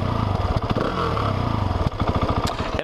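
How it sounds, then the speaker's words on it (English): Husqvarna 701 SuperMoto with a 700cc single-cylinder engine and stock exhaust idling and revving up close, a loud steady thumping pulse with a couple of sharper blips. "big old single cylinder 700cc thumper. This one's got stock exhaust on it, but we'll go ahead and try to give you a little bit of a sound here."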